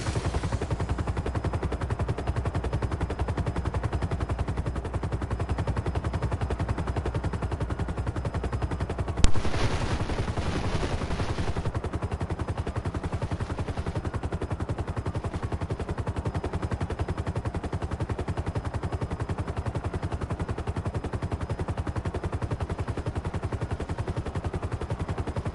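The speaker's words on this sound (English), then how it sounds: "I guess you can call them minigun, machine guns, or something like that" Car-mounted machine gun fire in GTA 5 Online, a steady dense rattle of rapid shots running through the whole stretch, with one sharper louder burst partway in.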